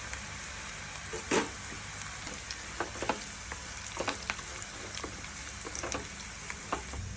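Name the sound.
onions frying with shahjeera and cashews in a pan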